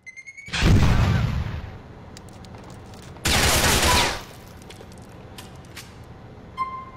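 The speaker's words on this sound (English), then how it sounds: "We're being shot at!" Loud bursts of automatic gunfire in a shootout in GTA IV: The Ballad of Gay Tony, two sustained volleys about a second each, separated by a quieter pause.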